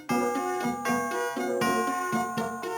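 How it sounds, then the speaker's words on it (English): Large flowers on a 2006 Fisher-Price Learn Through Music Plus Barbie Fairytopia toy play a run of ringing electronic tones, roughly six evenly spaced notes with a fuller, lower body, heard close up and alone. "The large flowers have a deep sound all their own."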